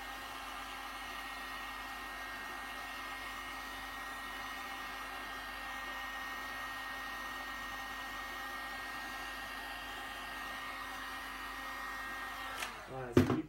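A heat gun blows a steady, even hot-air roar while warming the edges of a DIY upper-limb prosthetic socket, running continuously and close before a few handling clunks at the end.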